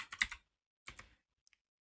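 Keys tapped on a computer keyboard while entering a Linux shell command, a quick burst of clicks, a pause, another short run, then two faint final taps.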